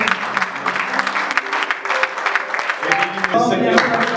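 A church congregation applauds, with dense clapping throughout and voices mixed in, swelling louder toward the end.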